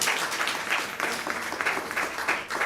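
A church congregation claps hands together during a Tamil worship service, a brisk, fairly steady patter of many hands at moderate volume with slight swells in intensity.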